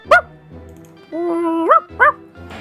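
A man imitates a dog with a short yelp, a sustained whining howl and another sharp bark, close and loud, during a casual football gaming session.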